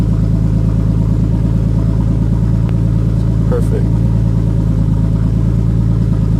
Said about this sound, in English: Steady ass idle at 1000 revs.